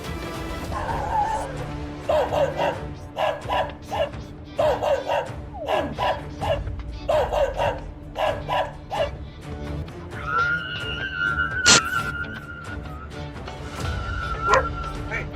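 Several guard dogs barking repeatedly in loud, overlapping bursts on security footage, with a higher whine and a whistle-like tone near the end.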